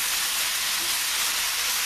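Loud, steady hissing sizzle of chicken frying in a hot pan over a high flame, continuous and close, with no talking.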